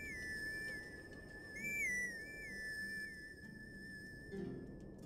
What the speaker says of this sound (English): Can I whistle for Epona here?